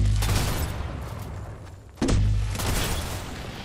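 Continuous Fortnite gunfire, a dense rattling barrage heard at a distance that swells again after a brief lull, loud and steady with no talk over it.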